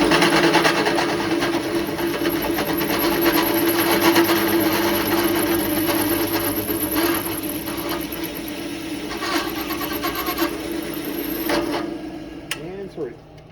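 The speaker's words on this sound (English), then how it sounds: "Line up our pilot hole with our drill bit." A drill whirs steadily for a long stretch as it bores a pilot hole, its motor tone humming and grinding, then winds down and stops near the end.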